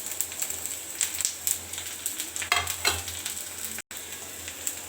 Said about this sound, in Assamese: এতিয়া আমি দি দিম ইয়াত চব্জি গোটেইখিনি, জলকীয়া,